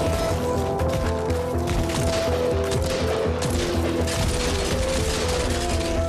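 Dense, continuous gunfire in the VR shooter After the Fall, overlapping rapid shots and bursts forming a loud, unbroken barrage across the whole stretch.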